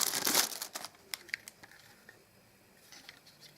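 Crinkly plastic packaging of a USB 2.0 hub being torn open and unwrapped, a burst of loud crackling at first, then sparser rustles and crinkles fading to quiet handling.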